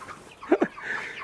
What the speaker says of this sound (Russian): курами и петухами подружился